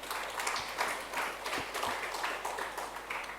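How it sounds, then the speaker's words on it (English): A crowd at a launch event for Sportstarlive.com gives a sustained round of applause, a dense, even wash of clapping at moderate volume filling the room. "can we all give them a big round of applause"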